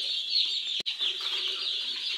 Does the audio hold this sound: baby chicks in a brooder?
yes